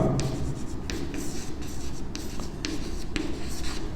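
Pen writing an answer on paper during a Class 9 geometry practice lesson, a steady close scratching with short strokes and brief pauses, continuous for several seconds without talk.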